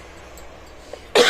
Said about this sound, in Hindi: सॉरी खांसी आ जाती है बीच में